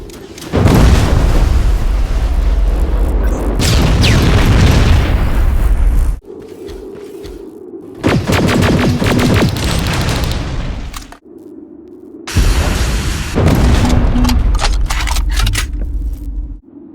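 Rocket explosions in the video game Terminator: Resistance: loud, booming blasts with long roaring rumbles, broken by short quieter gaps and then another heavy burst. No one speaks.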